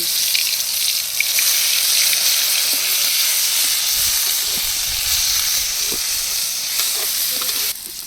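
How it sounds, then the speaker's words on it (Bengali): Water lily stems frying with black cumin and garlic in a wok over a village cooking fire give a loud, close, hissing sizzle that runs steadily throughout, with occasional soft stirring knocks. "শাপলা ভাজি করমু"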